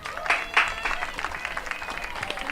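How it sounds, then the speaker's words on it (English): Crowd at a high school football game between Round Rock Concordia Cardinals and Fayette County Panthers breaking into applause, with a couple of sharper clapping swells early on, then scattered clapping and crowd noise that stays fairly distant. "Let's give him a round of applause."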